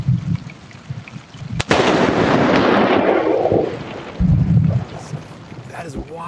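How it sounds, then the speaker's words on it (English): Lightning striking the ground in Keystone Heights, Florida, picked up by a door camera: a sudden sharp crack, then a loud, sustained roar of thunder that rumbles for a few seconds before fading, with a voice speaking before and after. "capturing the moment lightning struck the ground in Keystone Heights on Monday"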